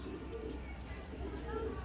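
Low soft cooing of a pigeon, faint and steady over a noisy background, short and close.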